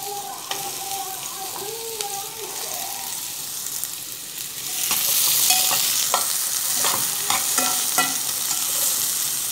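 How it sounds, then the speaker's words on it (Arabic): Onion sautés in a pan with steady sizzling and frying, and a utensil stirs and scrapes through it. The sizzle grows louder partway through as more onion goes in. "دلوقتي بقى هنزل كده بالبصله تتشوح."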